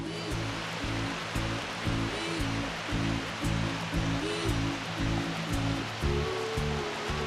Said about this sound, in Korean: 와, 물소리만 들어도 시원해지는 기분입니다